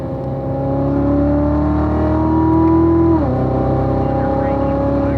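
Race car on the Spring Mountain track, a loud steady engine drone climbing in pitch under acceleration, dropping sharply at an upshift, then pulling on again.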